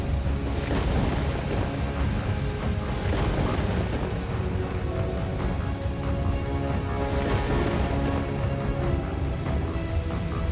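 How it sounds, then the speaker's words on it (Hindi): A movie thunderstorm on an island roars steadily with heavy rain and rolling thunder, dense and loud throughout with no talking. "उसी रात तूफान आने की वजह से मिस्टर किम का घर, खाना, सब कुछ रिवर में बह जाता है"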